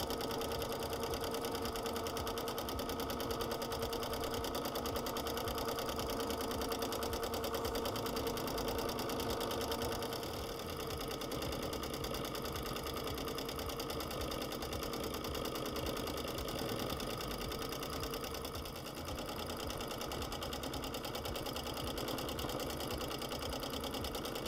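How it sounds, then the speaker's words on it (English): A sewing machine runs continuously for free-motion quilting on applique, a steady fast mechanical whir and needle chatter close up, with only slight dips in speed throughout. "I'm just going to get straight into stitching now"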